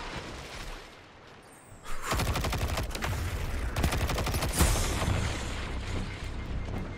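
A grenade explodes amid gunfire in the online shooter Destiny 2, a sudden loud blast followed by sustained rapid automatic fire and further booms, all alone without talk.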